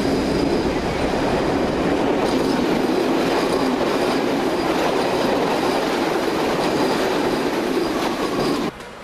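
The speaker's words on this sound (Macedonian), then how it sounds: "Сите граѓани во возилата го чекаат минувањето на возот, што на овој железнички премин се регулира со рачно спуштање на рампите." A train rolls steadily past a manually operated level crossing in Veles, loud and close throughout, with continuous rumbling wheels, clickety-clack and faint squeal, cutting off abruptly near the end.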